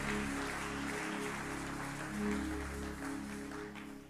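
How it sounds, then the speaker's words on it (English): A church congregation claps in sustained applause for a few seconds, loud and dense, with a steady musical hum underneath. "let's give Jesus a clap offering for all those whom he healed tonight"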